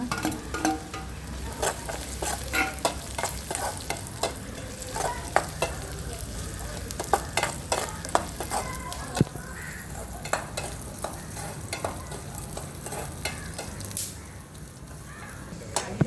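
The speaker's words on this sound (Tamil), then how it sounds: "தேங்காய் போட்டு வதக்கலாமா." Grated coconut sautéed in a pan for ragi adai, a steady sizzle and fry broken by repeated scraping stirs of a spatula, close and continuous throughout with no talk.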